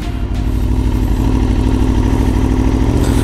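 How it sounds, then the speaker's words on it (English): A sportbike engine runs loud and close with a steady, rough low drone as the clutch is slowly released and the bike starts to move, holding an even note with no clear rev rise. "release the clutch slowly, and the bike starts to go"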